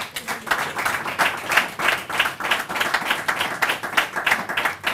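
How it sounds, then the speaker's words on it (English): An audience claps at a press conference in steady, pulsing waves of applause that hold at a moderate level for about five seconds without letting up. "Please help me to clap for them."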